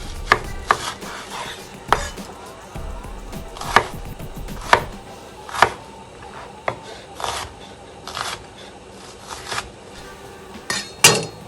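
An onion being chopped with a knife on a board: a series of crisp, close knife strikes at an uneven pace, some in quick pairs, with faint clinks between and no talk.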